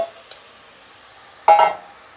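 Fenugreek greens and eggplant stir-fried in a pan, mostly quiet with a faint soft sizzle, a small clink, then a short loud burst of scraping and sizzling as the pan is stirred.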